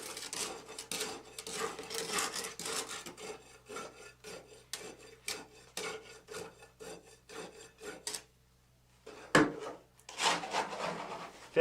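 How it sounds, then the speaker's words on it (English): A tamping rod strokes repeatedly through fresh concrete in a slump cone, a steady series of quick gritty scraping thrusts, close and fairly quiet. A brief pause comes before a few final louder strokes. "Rod the layer 25 times, making sure to penetrate into the first layer approximately 1 inch"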